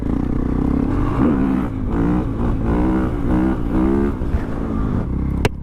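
A KTM 500 EXC dirt bike engine revs repeatedly during a wheelie on a rally, loud and close, with rising and falling pitch in rhythmic bursts and a sharp click near the end.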